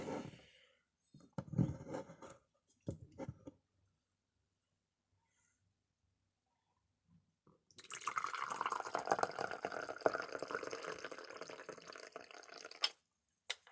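Tea poured into a cup in a quiet room, with a few soft drips early on, then a long silence before a steady trickling pour near the mic that lasts several seconds.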